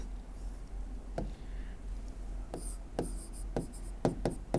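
Pen or pencil writing on paper, with quiet scratchy strokes and a few sharper taps spaced irregularly, close and fairly soft against a steady low background hum.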